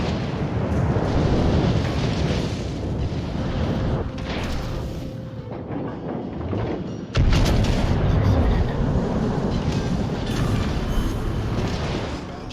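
Heavy naval artillery fire and explosions roar almost continuously in a World of Warships Legends battle as a battleship is destroyed, with a sharp surge of blast noise partway through.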